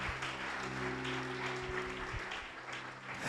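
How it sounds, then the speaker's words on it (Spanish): A church congregation claps together, a short burst of fairly faint, even applause over a low background hum. "Le das un aplauso al Señor."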